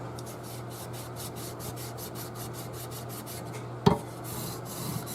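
Sandpaper rasps back and forth over a wooden Telecaster guitar fingerboard in quick, even strokes while a low hum runs underneath, broken near the end by a single sharp knock.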